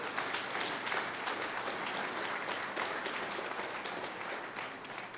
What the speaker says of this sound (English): Let's give him another round of applause, everybody.